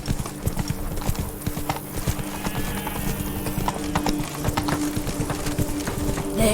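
Clip-clop of galloping horse hooves in a video game, a busy continuous rhythm of close, fairly loud hoofbeats over a low steady hum.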